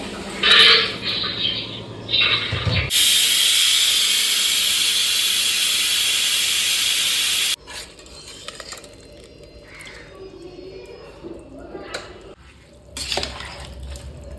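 A pressure cooker whistle blasts loudly and steadily for about five seconds while biryani cooks in a home kitchen, with clattering pots and utensils before and after.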